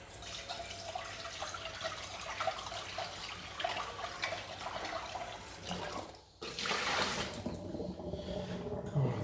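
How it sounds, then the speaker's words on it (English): Tap water running at a kitchen sink while a worn pot is washed, a faint, steady splash that is interrupted briefly partway through, then comes back a little stronger. "This doesn't look too good, this pot, but let me wash it"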